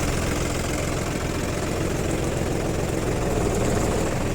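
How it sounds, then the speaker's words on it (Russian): Engine of a Hinomoto N209 four-wheel-drive Japanese mini tractor runs steadily and fairly loud, a continuous low rumble with a fine rapid beat and no pauses or voices. "Я думаю, видно, что трактор отлично работает."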